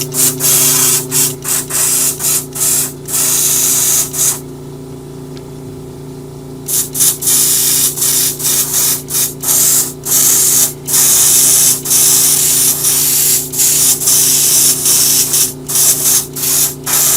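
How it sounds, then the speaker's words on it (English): An airbrush sprays paint onto a 3D printed alligator snapping turtle model in loud, steady hissing bursts broken by many short pauses, with one longer quiet gap, over a constant low hum. "I've got a couple spots to fill in before I paint, which is next, and then prime, and then we'll be airbrushing it"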